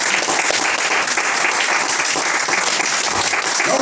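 A church congregation claps loudly and continuously, a dense wash of applause that fills the room at close range for several seconds.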